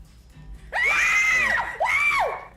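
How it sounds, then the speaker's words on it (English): Two girls let out two long, piercing, high-pitched screams, the first about a second long and the second shorter, loud and close with a faint background beforehand. "About the way these two girls scream."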